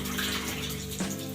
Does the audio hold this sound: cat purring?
no